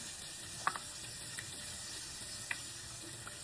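Pork steak and garlic sizzle in a pan, a steady soft frying hiss with a few faint pops and clinks, no voices.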